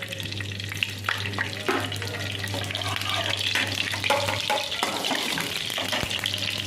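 Cumin seeds sizzle in hot desi ghee in a pan, giving a continuous close crackle and spit with occasional light clinks over a steady background hum.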